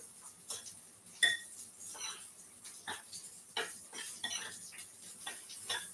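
Dry ingredients being mixed in a bowl, heard as light scraping, stirring and clinking of a utensil against the dish in irregular close strokes, fairly quiet, with no talking.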